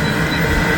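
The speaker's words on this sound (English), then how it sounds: "this is the second CSX train that I've caught today" CSX freight train rolling past: a loud, steady rumbling roar of wagons with a faint metallic whine, heard close for under a second without any voices.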